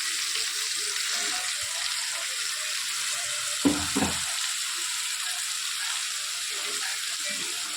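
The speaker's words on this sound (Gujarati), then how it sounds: "સરસ બધી વસ્તુ આપણે શેકી લઈએ" Ingredients such as green chillies are roasted in a pan, giving a steady close sizzle with a brief clatter midway and no talking.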